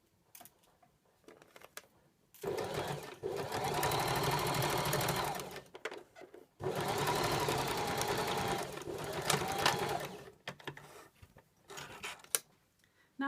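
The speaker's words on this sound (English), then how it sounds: "Now I've stitched all the way around the edge of the collar" A sewing machine runs in two steady bursts of a few seconds each while stitching around the edge of a shirt collar. The motor hums and the needle chatters rapidly up close, with quiet pauses and small handling clicks between the runs.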